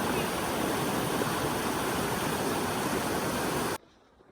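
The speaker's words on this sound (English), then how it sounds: "Tonight we camped along a stream." Continuous broadband rushing of a flowing mountain stream, steady and fairly close, like a creek, cutting off abruptly near the end; camped along it on the John Muir Trail.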